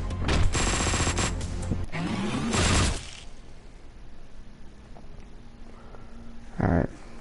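Loud bursts of gunfire blast in the top-down shooter Hotline Miami 2, a rapid volley over the first three seconds, then quieter ambience and one more short sharp burst near the end.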